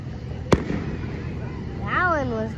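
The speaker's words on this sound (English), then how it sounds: "So we're watching fireworks and I want you to see the fireworks." A single sharp firework bang bursts out against a steady outdoor rumble at a July fireworks show in Fairfield Bay, followed by a voice speaking with rising and falling pitch.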